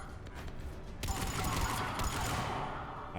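Enemy gunfire in Mass Effect 3, a dense, sustained crackle of shots that swells after the first second and keeps rattling steadily at moderate loudness.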